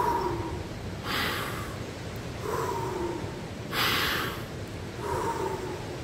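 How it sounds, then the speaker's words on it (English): Three slow, deep breaths are drawn at a calm, even pace, each a soft airy rush close to the microphone with quiet pauses between, no voice over them. "Take a deep breath right now,"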